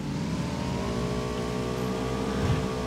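Car engine revving in the PUBG battle royale game, a steady loud mid-pitched roar with rising harmonic tones running throughout, no talk over it.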